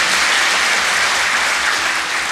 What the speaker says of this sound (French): Félicitations, oui, on peut applaudir.